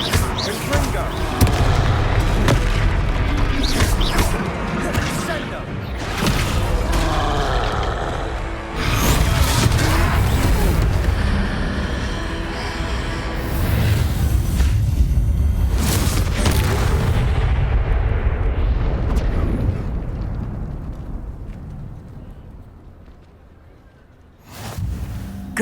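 Confringo blasting spells burst repeatedly during a troll fight in Hogwarts Legacy, loud booming explosions layered over dense combat noise and game voices, easing off near the end.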